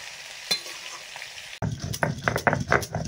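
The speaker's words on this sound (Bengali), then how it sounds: "মাছ ভাজা হচ্ছে" Katla fish frying in a pan, a quiet hiss for the first part, then a sudden louder burst of crackling sizzle with popping spatters that stays busy to the end.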